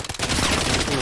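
Rapid gunfire from a gun in the mobile shooter BloodStrike, a loud, dense burst of shots fired in quick succession at close range.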